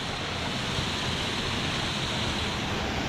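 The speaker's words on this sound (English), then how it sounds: "Look at the waterfall up there." Waterfall in a rocky gorge, a steady broad rushing roar with no break, loud and constant, without voices.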